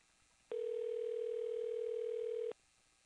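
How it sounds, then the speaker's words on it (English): A telephone dial tone, a steady unbroken hum from a phone handset while calling someone, sounds alone for about two seconds and then cuts off abruptly into quiet. "Having a hard time dialing here this morning."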